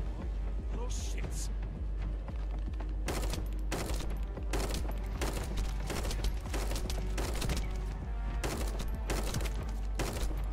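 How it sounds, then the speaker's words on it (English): Gunfire in the shooter game The First Descendant: after a muffled start, rapid sharp shots crack out in quick repeated bursts at a steady pace, loud and close, continuing to the end. "I'm getting shot. I'm getting lit up."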